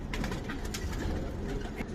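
Giribaz pigeons coo steadily and close by, soft repeated throaty calls layered over one another with no talking.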